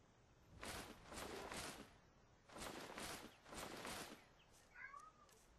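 A cat meows in a forge setting in the video game Skyrim, with several broadband bursts of sound followed by a faint, short meow near the end, fairly quiet overall.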